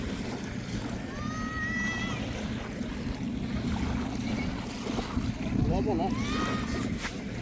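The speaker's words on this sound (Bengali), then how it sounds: "শন শন শব্দ, সাথে সাগরের গর্জনেরও শব্দ" Arabian Sea waves roar steadily under a gusty midday wind, a continuous broad wash of surf, while voices and a few tonal cries sound over it.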